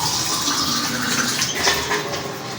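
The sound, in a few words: water poured into pot of beef curry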